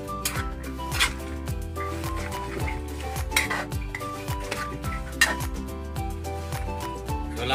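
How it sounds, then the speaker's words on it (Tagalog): Ginataang labong, bamboo shoots in coconut milk, is stirred in a pot with rhythmic scraping and clinking of the utensil against the metal, close and fairly loud over a steady tonal background. "So halo-haloin natin yan."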